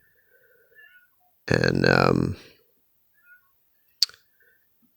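A cat gives one long, strained, agitated meow close to the microphone, followed by a sharp click and a few faint small noises around it, with a single spoken word.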